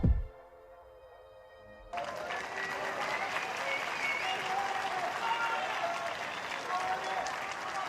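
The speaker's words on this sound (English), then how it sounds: "Big cheer for the return of the players for the second half of this first session" Snooker crowd at the Shanghai Masters semi-final bursting into loud, sustained cheering and applause as the players return, rising abruptly after a quiet opening and continuing steadily to the end.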